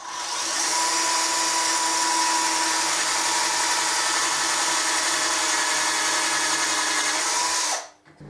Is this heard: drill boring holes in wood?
yes